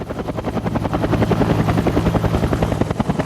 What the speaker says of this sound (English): The choppers are heading in, everybody.